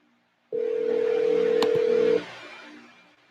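A telephone dials to call a number back, a single steady dial tone with a brief touch-tone beep in the middle, clear and close, then it cuts off into fading line noise.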